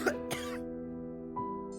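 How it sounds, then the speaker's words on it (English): Two quick coughs up close at the start, then a softer throaty sound, over a low steady hum. "His attempt to roar in fury morphed into a pitiful cough."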